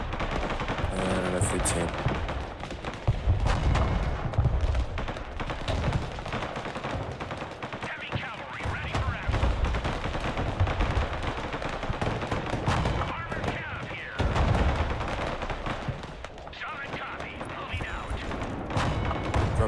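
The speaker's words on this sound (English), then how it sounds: "I'm firing the mortars now." Mortars and other weapons fire in the real-time strategy game Broken Arrow, with dense repeated booms and rattling gunfire throughout and someone speaking briefly over the battle.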